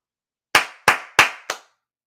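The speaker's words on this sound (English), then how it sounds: "Jason Garrett clap." Four loud, sharp single hand claps in the emphatic Jason Garrett style, spaced slowly and evenly at close range, with nothing else heard around them.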